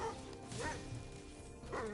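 Two faint, brief dog barks or yips from Spyro Reignited sit low under a steady game background, spaced about a second apart.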